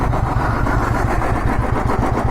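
A motorcycle engine idles close by with a dense, continuous chugging rumble, steady and fairly loud throughout.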